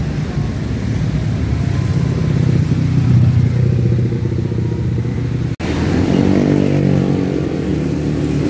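A large intercity coach, ALS 365 departing Surabaya for Medan, with its diesel engine running at a steady loud idle, a brief cut partway through, then the low drone resumes.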